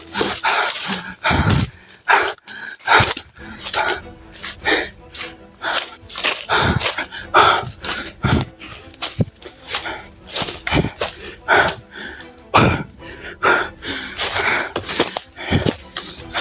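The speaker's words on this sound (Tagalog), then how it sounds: "Ay mga aso narinig tayo tol" Several dogs bark in a rapid, overlapping volley at a rural outdoor location, the sharp barks close and loud and nearly continuous for the whole stretch, with faint voices now and then.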